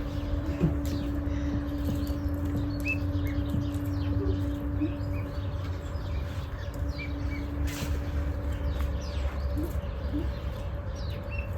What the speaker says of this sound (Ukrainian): Ну, яка гарна пташка.